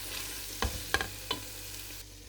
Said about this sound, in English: give it a stir now and let it cook for another minute or so.